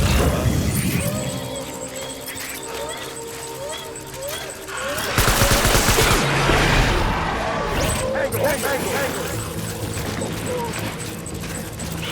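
Gunfire in the video game Death Stranding, busy bursts of shots and crashes under game music and effects, growing denser and louder partway through.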